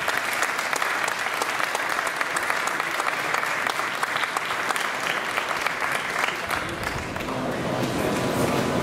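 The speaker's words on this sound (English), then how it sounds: "Everyone, let's give a round of applause for our brave officers here today." A round of applause for police officers at a police department ribbon-cutting ceremony, steady dense clapping from a gathered crowd, continuous and fairly loud, with some murmur underneath.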